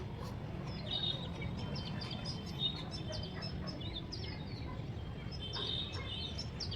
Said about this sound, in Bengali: Siberian bird